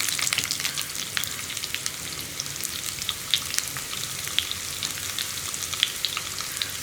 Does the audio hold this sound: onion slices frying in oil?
yes